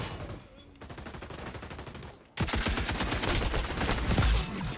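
Rapid automatic gunfire from a weapon in the XDefiant shooter game, a dense, loud burst of continuous shots that swells sharply midway and keeps rattling to the end, with quieter game noise before it.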